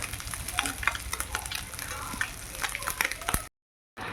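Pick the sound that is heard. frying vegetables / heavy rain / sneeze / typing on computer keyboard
frying vegetables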